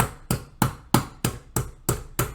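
A chicken breast fillet is being pounded flat with a steady series of eight sharp, evenly spaced thuds, close and fairly loud, with no voices.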